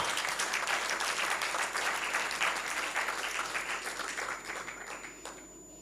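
A church congregation claps and cheers in praise, a dense wash of applause that fills the hall and then gradually thins and fades toward the end.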